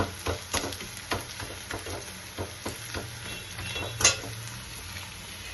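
Eggplant and tomato fry in hot oil with a steady, dense sizzle, punctuated by repeated scraping stirs of a spatula in the pan, all close and without talk.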